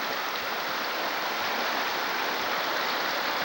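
Cibola Creek in Colorado flows in a steady, unbroken rush of water at sunset, a dense hiss that stays even throughout with no voices.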